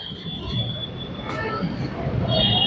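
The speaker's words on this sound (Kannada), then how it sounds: "ನಮ್ಮ ಟ್ರೈನ್ ಬಂತು ಗೈಸ್" A metro train arrives at MG Road station in Bangalore, with a steady rumble and a high squeal of wheels and brakes that grows slightly louder toward the end.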